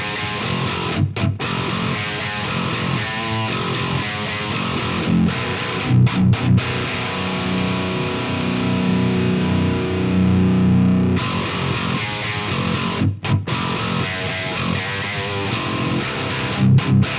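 Heavily distorted 8-string electric guitar played through an Axe FX with an Ownhammer speaker cab impulse, thick low riffing sustained loud and steady with a few brief stops and chugging palm-muted bursts.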